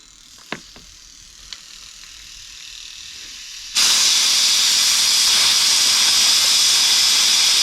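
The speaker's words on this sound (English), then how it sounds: "It's just pulsing away in there in the fluid, and it's sending some of the carburetor cleaner through the injector." Fuel injector from a 1995 Mitsubishi Pajero Mini Turbo pulsing in carburetor cleaner fluid, a quiet faint hiss with two small ticks, then a sudden loud, steady spraying hiss that continues to the end.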